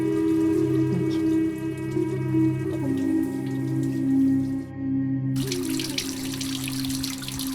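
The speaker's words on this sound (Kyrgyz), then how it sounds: "мына бул жерде үстүбүздө тамчылап турат да сууларчы" Water drips from rock overhead on a mountain, heard as a steady trickling wash with faint echoing tones, close and continuous, with a brief gap before a brighter splashing resumes.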